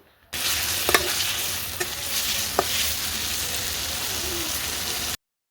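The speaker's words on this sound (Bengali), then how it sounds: "তো এখন হচ্ছে 2-3 মিনিট আমি নাড়াচাড়া দিয়ে নেব" Ripe tomato and green chillies fry in a pan for a green peas curry. A loud, steady sizzle runs throughout, broken by a few clinking spatula stirs, and there is no speech.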